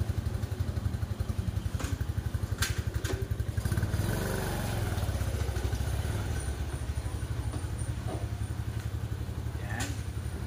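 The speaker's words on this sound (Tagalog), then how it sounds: "stock pipe po siya, pero twin pipe pa rin. So hindi siya ganun kaingay, unlike sa usual natin na 200cc na open pipe" A 150cc 4x2 manual-transmission ATV with its stock twin exhaust pipe idles nearby, producing a steady, fairly moderate putter of even rapid pulses that swells slightly partway through.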